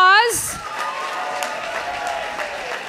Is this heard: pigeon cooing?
no